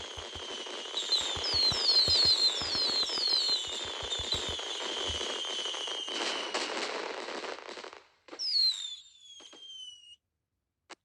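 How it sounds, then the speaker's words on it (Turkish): A dense burst of fireworks from the fidget toy game Fidget Toys 3D crackles and pops continuously with whistling shrieks overhead, fading out, followed by a final whistle and quiet. "bir sürü havai fişek yeni kanalımızın açılışı için."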